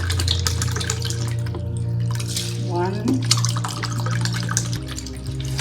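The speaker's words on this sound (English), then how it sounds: "And I'm going to add the water." Water is poured into rice for nasi lemak, a running splash and trickle into the pot heard up close while a person speaks over it.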